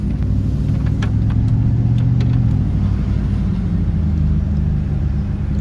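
Steady low engine rumble of a vehicle, heard as a work truck on a road past houses under construction, loud and continuous throughout with faint higher clicks and no talk.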